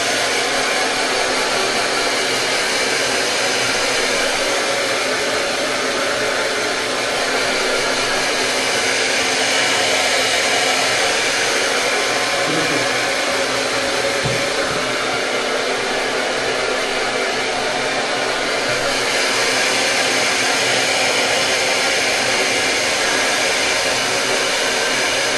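A hair dryer blows steadily and loudly at close range, a constant airy whoosh that barely changes over its full length, used to dry a dog after a bath.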